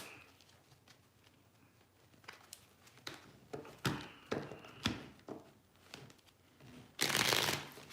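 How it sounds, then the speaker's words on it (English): Cards riffle and snap in a series of quick shuffles, soft taps building to a louder riffle near the end. "let me get a card, a couple shuffles"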